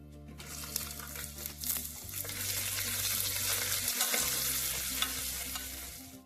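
Chopped ivy gourd hits a hot tempering of oil and cashews in a cooker pan, setting off a loud, steady sizzle with scraping stirs throughout and no voices.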